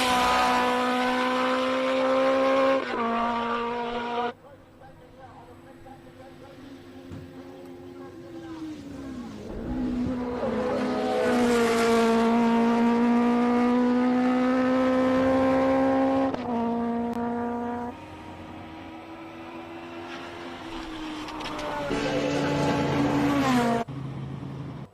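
Classic car on a hill climb lap at SIMOLA, its engine note climbing and falling through gear changes, loud and sustained with distinct shifts, while commentators talk over it.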